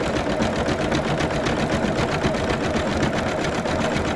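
Close and loud, an embroidery machine stitches a patch on sublimated polyester with a steady, fast, unbroken mechanical chatter that never pauses, with no talking.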